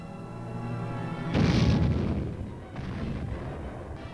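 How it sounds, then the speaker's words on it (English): Recoilless rifle fired during military training, one heavy boom that hits abruptly after a steady mechanical hum, then a rumbling decay over a couple of seconds with a fainter second thump following. "This group is setting up a recoilless rifle."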